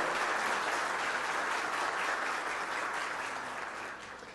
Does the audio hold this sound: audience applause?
yes